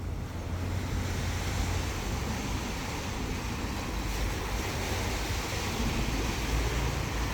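Ocean waves at a fishing spot near a bridge, a steady broad wash of surf with some wind rumbling against the microphone, continuous and fairly loud with no talking.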